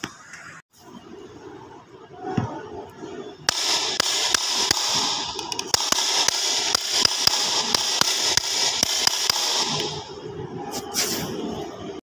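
A wooden toy gun fires a rapid series of sharp cracks and pops, loud and close, repeating for several seconds before stopping.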